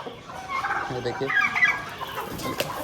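Chickens and turkeys cluck and gobble while being fed grain at a farm enclosure, a busy mix of overlapping calls at moderate distance with no talk.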